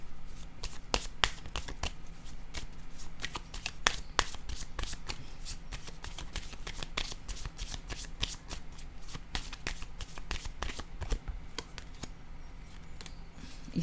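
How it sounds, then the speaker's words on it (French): Playing cards being shuffled and drawn from a deck, a steady stream of quick crisp riffling snaps and flicks, close and fairly quiet, with no voices over it. "Je vais piger une autre carte."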